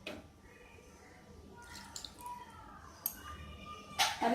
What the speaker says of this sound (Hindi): बचे हुए ऑयल और मिल्क भी डाल देते हैं